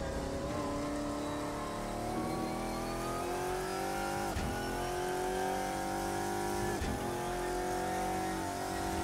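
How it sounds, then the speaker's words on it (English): A GT1 race car in Assetto Corsa roars around Donington Park, its engine loud and sustained at high revs, rising steadily with two sharp dips where the pitch drops and climbs again. "A little over rev right there."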